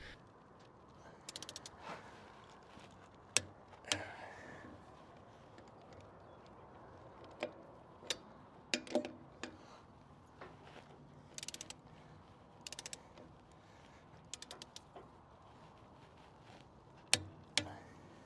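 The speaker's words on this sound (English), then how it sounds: "And then click torque wrench to finish off the job at that right foot-pounds of torque." A click-type torque wrench tightening trailer lug nuts in a star pattern, giving sharp isolated clicks and ratcheting ticks spread across a quiet stretch, with small mechanical creaks between them.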